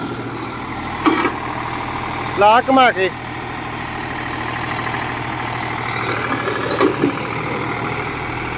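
An Eicher 485 tractor engine idles with a steady low rumble, while people talk over it and a few brief sharp sounds cut through.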